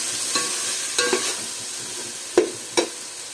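Ginger garlic paste sautés gently in a little oil over a low flame for a mutton keema biryani, a soft steady sizzle with four or five distinct scraping stirs of a spoon.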